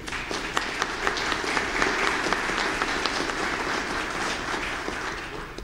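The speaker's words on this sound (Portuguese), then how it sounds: "merece uma salva de palmas o nosso diretor-geral." An audience applauds the director-general at the opening of a lecture series on tax reform, with steady, moderately loud clapping throughout and a few sharper individual claps standing out.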